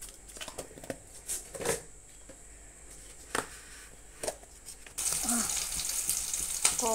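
Tempering spices dropped into two spoons of hot oil crackle faintly with a few clicks and taps, then a loud, steady sizzle of frying takes over.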